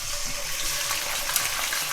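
Half a kilo of chicken goes into hot oil already used to fry okra and onions, giving a loud, steady, close sizzling hiss with no talking.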